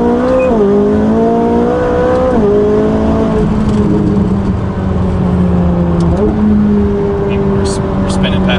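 A McLaren 570GT supercar accelerates hard from inside the cabin. The engine note is loud and continuous, rising in pitch and dropping at gear shifts, while people talk over it.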